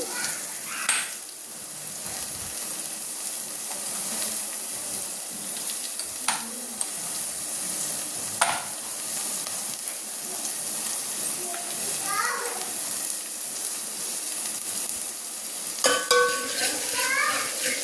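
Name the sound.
green chilies frying in oil in a pan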